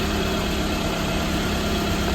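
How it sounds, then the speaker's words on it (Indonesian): A 2010 Toyota Vellfire Z with low mileage idles smoothly, its engine giving a steady, even hum and a faint rhythmic throb, heard close and unbroken with no talking. "Mesinnya teman-teman masih halus banget."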